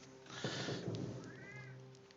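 A pet cat gives a couple of soft meows close by, a short rising cry followed by a thinner wavering one over a faint steady hum.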